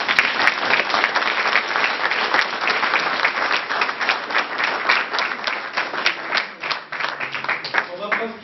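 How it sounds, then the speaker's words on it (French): A theatre audience applauds at the close of an amateur troupe's stage play: dense, sustained clapping from many hands fills the hall, steady and loud throughout, with a few sharper individual claps standing out. "Vous pouvez vous applaudir."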